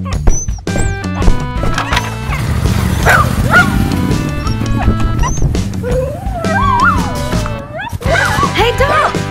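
A dog barks and howls in a busy, loud mix of other sounds, with people talking over it and clopping hoofbeats at times.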